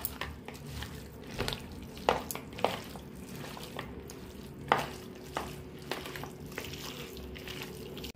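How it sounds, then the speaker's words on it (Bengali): Mutton is mixed by hand with mustard oil and spices, giving a soft, wet squishing texture up close with occasional sharper clicks and slaps, and no talking. "এই সমস্ত উপকরণ দিয়ে আমি মাংসটাকে ভালো করে মেখে নেব।"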